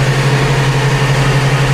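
A loud tractor engine during haymaking runs with a steady low drone, a constant throbbing hum with no change in pitch, close and alone.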